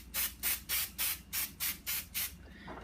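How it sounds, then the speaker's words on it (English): Spray adhesive sprayed onto the back of a stencil in seven short, even hissing bursts, close and fairly quiet with brief gaps between them. "you spray the back"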